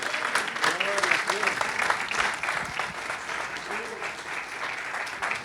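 A church congregation claps steadily and fairly loudly for several seconds, a dense, continuous patter filling the room while voices call out faintly beneath it.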